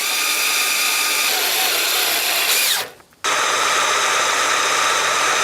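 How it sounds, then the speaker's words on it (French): Cordless drill driver with its supplied extension bit spinning long screws into a pergola frame, a steady loud whine that cuts out briefly and then resumes. "j'utilise la tige qui est fournie pour visser à la visseuse parce que les vis sont longues"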